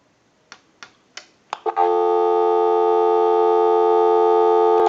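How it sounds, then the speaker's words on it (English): A TA954 military field telephone: a few sharp clicks from the flash button, then a loud steady dial tone holding alone until a final click. "Now we can use the flash button and give you some dial tone"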